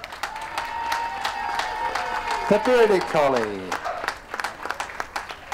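Audience applause fills a dog show ring for the pastoral group, sustained clapping running throughout while an announcer calls out breed names over it.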